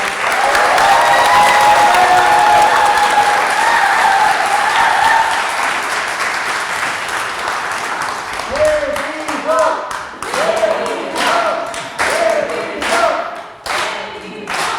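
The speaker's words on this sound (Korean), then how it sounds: "우리 백이성 역사 강사님을 큰 박수로 맞이하겠습니다" An audience claps loudly to welcome a history lecturer at a political lecture event in Gumi, Korea. Dense applause rings out for several seconds, then thins into scattered claps and thumps as a voice begins speaking.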